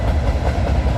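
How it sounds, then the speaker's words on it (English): A CN Rail freight train pulled by four locomotives passes close by in the evening with a dense, loud, low rumble and rolling wheel noise. The sound is continuous and steady, and nobody speaks. "This train's got 4 engines, unusual."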